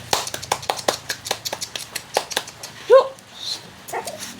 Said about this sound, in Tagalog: Asong makulit.